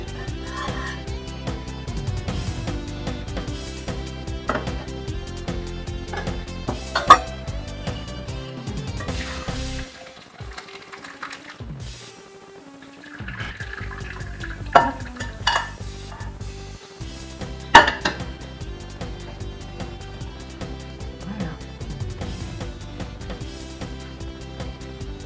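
Cooked azuki beans stirred and mashed into paste in a pot, heard as ongoing soft scraping and clinking of utensil against cookware, with brief pauses and occasional sharper knocks, close and moderate.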